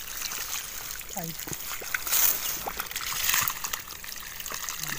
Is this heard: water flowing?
yes